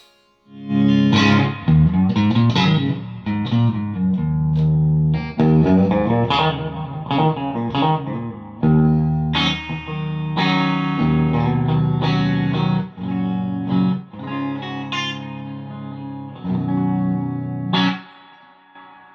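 Electric guitar plays a melodic line of distorted, sustained notes drenched in reverb, ringing out and fading at the end.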